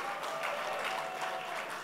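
Steady applause from a group of people clapping together, even and continuous for a couple of seconds with no voices over it.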